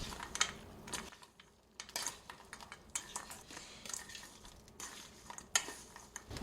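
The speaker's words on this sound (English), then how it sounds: "Now I'm going to stir those up." Almonds tossed with sugar and spice in a pan, stirred with a utensil that scrapes and clinks against the metal in quick uneven bursts, fairly quiet and close, with no talking.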